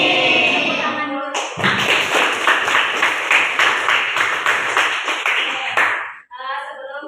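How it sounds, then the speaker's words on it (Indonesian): A classroom of students claps together in a brisk, rhythmic burst lasting several seconds, close and fairly loud, cutting off sharply; a voice talks briefly before and after. "Tepuk tangan dulu."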